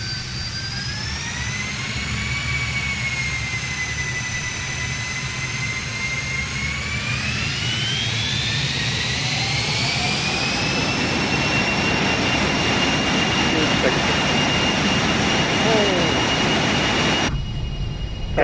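Regional jet engines spooling up in Microsoft Flight Simulator 2020: a loud, close turbine whine sweeping steadily upward in pitch over a heavy low roar, building and then holding at a higher steady tone, with no voices.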